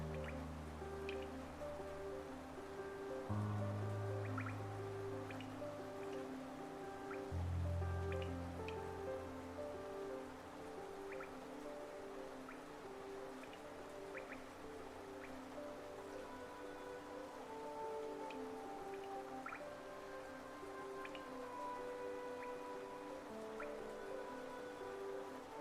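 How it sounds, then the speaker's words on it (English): Rain falling in the video game Hollow Knight, a soft steady patter with scattered drips over a sustained, droning musical background, no talking. "Sound of the rain here is pretty nice."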